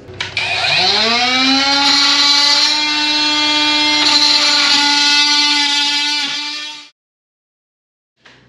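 A power tool cutting pipework spins up with a rising whine, runs at a steady high pitch for several seconds, then winds down and stops.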